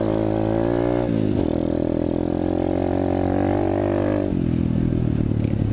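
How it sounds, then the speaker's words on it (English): An Apollo 125cc dirt bike runs loud and close on a trail, its engine droning steadily and then shifting pitch twice as it revs and settles. "Bike still runs good."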